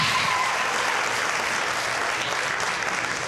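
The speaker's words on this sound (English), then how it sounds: "You guys are only clapping because a white guy kept the beat." A live audience bursts into loud, sustained applause after a rap performance on a radio roadshow, a dense wash of clapping from many hands that carries on for the whole stretch.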